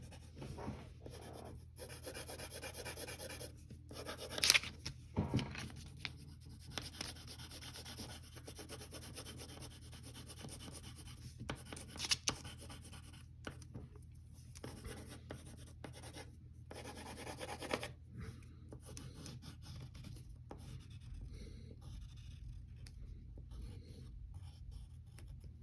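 A pencil rubs across paper while a comic character portrait is drawn and its lines darkened: quiet, close, continuous scratchy strokes in uneven bursts with brief pauses, no speech.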